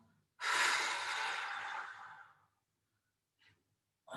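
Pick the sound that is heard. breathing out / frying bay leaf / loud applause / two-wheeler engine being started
breathing out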